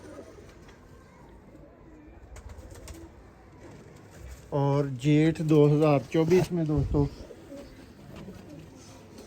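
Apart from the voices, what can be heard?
pigeons cooing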